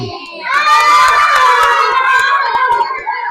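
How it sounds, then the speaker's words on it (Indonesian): A classroom of children cheers and shouts in excitement after a correct answer, a loud, sustained chorus of young voices with some clapping underneath that fades toward the end. "Tepuk tangan."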